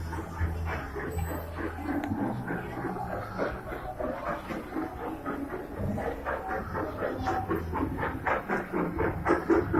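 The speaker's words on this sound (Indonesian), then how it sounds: "naik kereta api" Rumbling passenger train ride heard from inside a carriage, a steady low rolling drone with faint rhythmic clatter running throughout at moderate loudness, with no talk.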